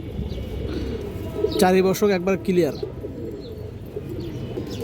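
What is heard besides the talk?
pigeons cooing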